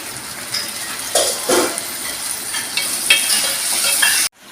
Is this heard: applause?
no